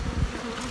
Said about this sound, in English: Box o' bees.